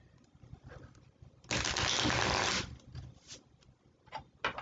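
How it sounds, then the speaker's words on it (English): A deck of White Sage Tarot cards being shuffled: one loud, dense riffle lasting about a second, then softer card taps and rustles nearby, with no voices. "I'm going to give these cards another good shuffle."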